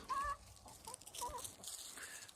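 Free-range backyard chickens cluck softly and intermittently nearby, a few short calls scattered over a low background rustle, with no talking.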